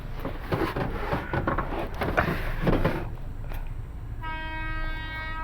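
At a closed level-crossing gate, a passing train rumbles and clatters loudly nearby, then its horn sounds as a sustained, steady tone through the last second and a half.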